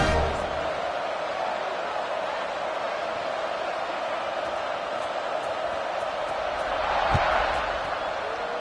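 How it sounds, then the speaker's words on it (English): A stadium crowd murmurs steadily at an American football game after a score, a broad, continuous buzz with a brief swell of cheering late on, heard under a commentator's voice. "this crowd is buzzing after that last score"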